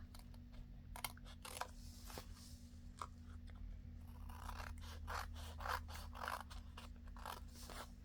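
Repeated small snips of scissors cutting paper, close and crisp, with brief pauses between cuts and a steady low hum underneath.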